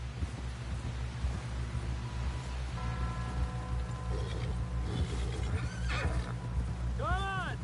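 Horses in Red Dead Redemption 2 whinny loudly near the end, with clip-clopping hooves and a sustained musical drone running beneath, as voices talk over the ride.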